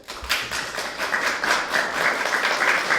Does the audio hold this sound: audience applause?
yes